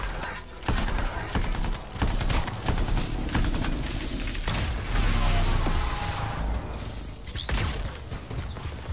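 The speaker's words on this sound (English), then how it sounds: "Time to show them that really large gun." A large gun in the video game Anthem fires in a loud, dense barrage of rapid impacts and crackling blasts that keeps going without a break.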